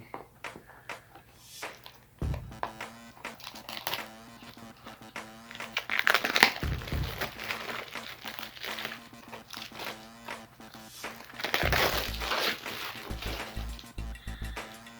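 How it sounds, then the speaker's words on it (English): Plastic shrink wrap crinkles and tears as it is peeled off a two-disc DVD box set, with close, irregular crumpling and ripping bursts and a few sharper tears and louder handling thumps. "let's remove the plastic."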